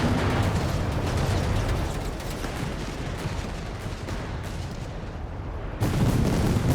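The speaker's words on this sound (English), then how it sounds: "Now this is rocket launches" Rocket launches in the real-time strategy game Company of Heroes 3, a dense continuous barrage of booming explosions and firing that rumbles loudly throughout, with a sharp burst near the end.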